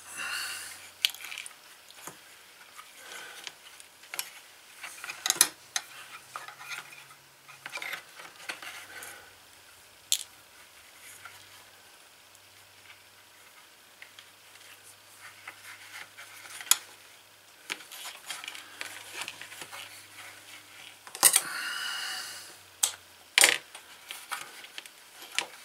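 Hand stitching a pocket onto a leather Nagant revolver holster, with sparse scattered ticks, pulls and faint rustles of thread and leather at close range, spread over quiet pauses.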